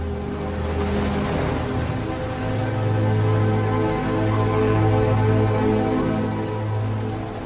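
Ocean surf on a shore gives a steady roar of waves, broad and continuous, with a low rumble that swells and eases over several seconds and no voices.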